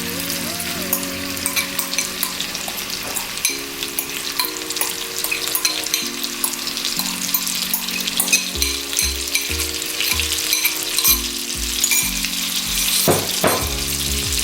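Chopped onion frying in melted butter in a pan, a loud continuous close sizzle with occasional stirring scrapes, under soft background music, no talking.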